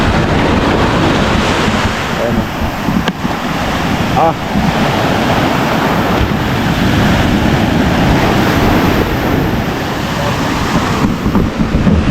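Strong surf roars continuously near a seaside hut, a dense, loud wash of crashing waves mixed with heavy wind buffeting the microphone, with no break in the noise.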